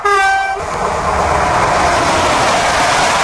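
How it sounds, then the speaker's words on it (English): A train passes close by, a horn sounding briefly at the start before giving way to a loud, continuous rolling rumble and rattle of the cars. "Train."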